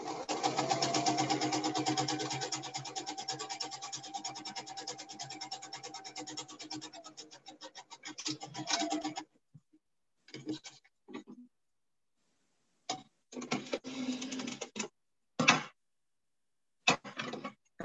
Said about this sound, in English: just sew this edge together